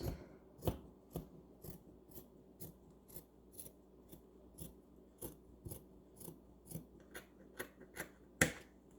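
Scissors cutting fabric for a short dress pattern: a regular series of crisp snips and rasping closes, roughly two per second, close and quiet with no talk.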